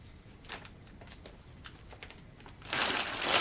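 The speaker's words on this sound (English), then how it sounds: "It's sellotaped closed, and it's very straightforward to get rid of that sellotape." Sellotape is peeled off a large plastic bag wrapped around a hi-fi amplifier, giving a series of small crinkly ticks that build into a louder, sustained rustling tear at the end.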